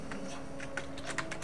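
Quick, light clicks of typing on a computer keyboard, a short irregular run of close keystrokes over a faint steady hum.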